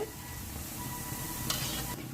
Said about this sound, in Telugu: ఏగిపోయిందండి బూందీ ఇలా క్రిస్పీగా ఏగాలి